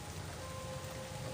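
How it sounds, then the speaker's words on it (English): Steady rain falling outdoors, a dense even hiss of drops on surfaces that holds at a low level throughout, with no voices. "It's nice out in the rain."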